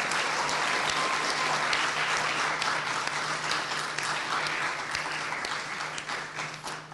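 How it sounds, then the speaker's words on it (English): Sustained applause from a large audience at a Southeast Model African Union assembly, dense and steady with no voices, holding at a full, even level before easing slightly toward the end. "let's give all of them a round of applause"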